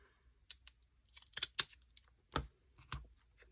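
Scissors snip paper while finishing an Edith Holden-style journal: a handful of sharp, dry clicks and cuts spaced irregularly, close and fairly quiet, with two stronger snips near the end and no talking.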